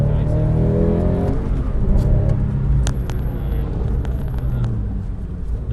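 A Porsche GT3 Club Sport accelerates on a race track, its engine roaring loud and close with rising harmonic tones, while people talk over it.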